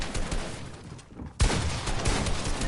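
Fortnite gunfire crackles in dense rapid bursts, breaks off briefly, then resumes with a sharp, loud volley.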